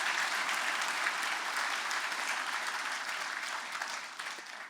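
A municipal election candidates' meeting erupts in a dense wash of audience clapping for the ward council and mayoral candidates, steady and fairly loud, tapering slightly toward the end with no one speaking.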